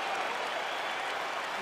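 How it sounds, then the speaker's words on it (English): An arena crowd in the EA Sports UFC 4 video game roars steadily as a fight gets underway, a dense, continuous wash of cheering and applause with no breaks. "crowd getting excited as this fight gets underway"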